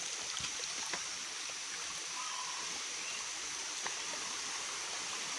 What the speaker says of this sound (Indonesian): Kemungkinan depan ini ada sumber air ya, atau aliran sungai kecil.